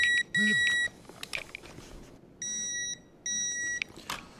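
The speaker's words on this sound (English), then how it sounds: "The double beeping, when I torque it the second time, you don't need to do that." A digital torque wrench gives two sets of sharp, high electronic beeps during injector torquing on a DT-466E engine rebuild, each a sustained tone, with faint workshop clatter and brief mechanical noises between them.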